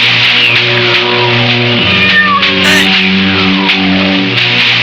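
A cat meows loudly and close by in a run of drawn-out, wavering cries that bend up and down in pitch, sounding alone without any talk.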